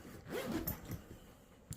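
A tent door zipper is pulled open in a few quick, raspy strokes, quiet and close, with faint rubbing of fabric around it.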